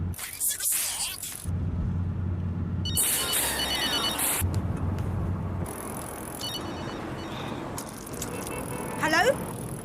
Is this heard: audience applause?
no